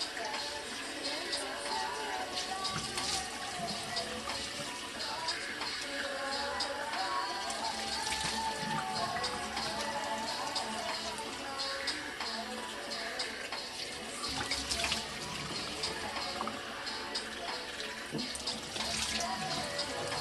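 Water running steadily from a tap in a sink to rinse off a facial, a continuous close splashing hiss for the whole stretch with slight surges and no pauses.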